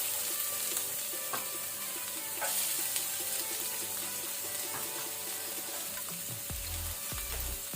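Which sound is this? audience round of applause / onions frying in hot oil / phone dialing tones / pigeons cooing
onions frying in hot oil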